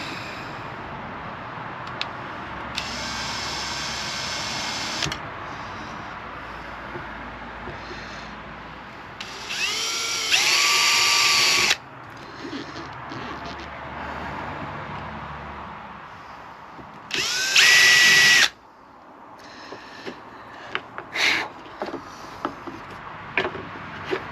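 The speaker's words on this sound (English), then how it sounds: "gently touch it with the drill bit" A drill bit bores into a cracked Wayfarer sailboat mast, heard in several short bursts of high whining grind separated by quieter scraping and handling noises, close by with no talking.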